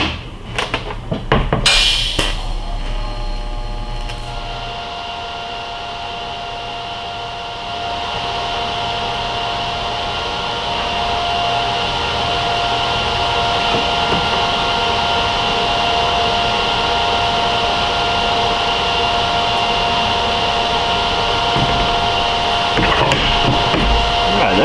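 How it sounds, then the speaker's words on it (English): Welding on a forward-facing turbo manifold, a steady buzzing, hissing arc that starts after a few seconds of clatter and runs loud and continuous to the end, with no talk over it. "I might actually throw a few extra tack welds down here now that I have a little bit more access to it"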